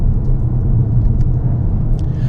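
Inside a Škoda Octavia vRS Estate on the road, the engine and tyre rumble hold a steady low drone with slight rises as it rounds a roundabout, close and constant, no voices.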